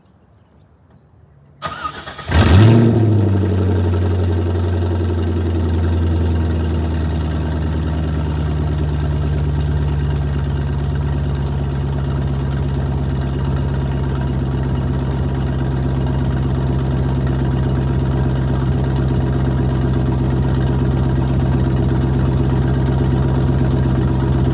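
A Chevrolet Corvette with straight-pipe exhaust cranks briefly and fires with a sharp, loud bark, then settles into a long, steady, deep rumbling idle close by, with no talking.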